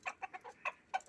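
Hens and chicks cluck in a run of short, separate calls, fairly close and moderately loud, with no talking.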